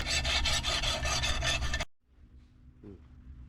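Metal file rasping the freshly cut edges of a handmade bolt, heard as loud steady back-and-forth strokes close by for about two seconds before stopping abruptly, followed by quiet room noise and a faint brief scrape.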